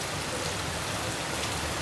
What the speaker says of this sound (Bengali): সন্ধ্যা থেকে এত জোরে বৃষ্টি হচ্ছে